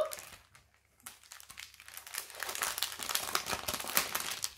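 Plastic packaging of a cross-stitch kit being opened, crinkling and rustling up close in a steady run of crackles that grows busier and louder, with no talking.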